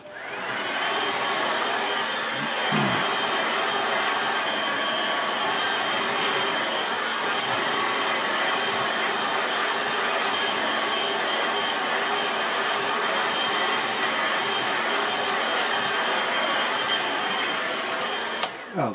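A hair dryer blows steadily on a watercolour landscape painting of Ullswater, a continuous close whirring roar that runs almost the entire time with little change.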